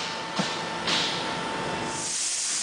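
A spray machine pumps a thick, lightweight ceramic insulation coating for hot pipes, giving a steady hiss with a faint tonal hum and a couple of brief louder bursts.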